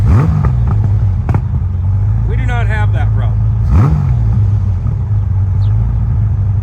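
A Honda Goldwing motorcycle engine idles around 1,000 rpm with a steady low rumble during a carburetor sync check, then revs up sharply and settles back, with someone talking over it nearby.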